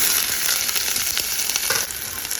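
Small shallots sautéing in hot oil right after mustard seeds have spluttered, a steady close sizzle with light crackles and a brief stirring scrape, with no voices.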